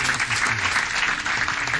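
An audience at a city council meeting applauds steadily, a dense, even wash of clapping from many hands in a hall throughout.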